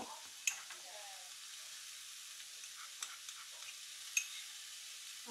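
25 grams of butter melting over vegetables in a pan gives a faint, steady sizzling hiss, broken by a few sharp utensil clicks, heard alone at low volume.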